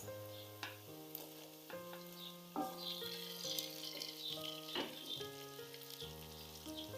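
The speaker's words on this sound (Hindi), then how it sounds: "इसको थोड़ा भूनेंगे।" Quiet sizzling and stirring of green onions, green chilies and tomatoes in a hot pan, crackling softly under a steady melodic instrumental backing, with no one speaking.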